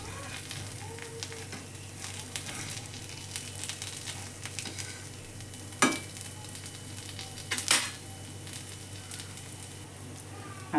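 Aloo tikki potato patties frying in butter on a pan, flipped over; a steady close sizzle with soft scraping, and two sharp spatula clacks as the patties are turned.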